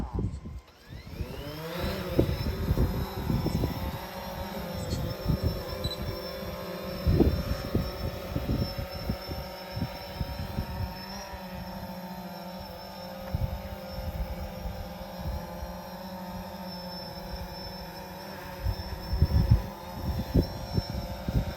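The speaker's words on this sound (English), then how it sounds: "your first manoeuvre will be take off and hover for 10 seconds" A small drone-type aircraft takes off and hovers during a practical flight demonstration, giving a steady close motor whine and hum with gusty bursts throughout.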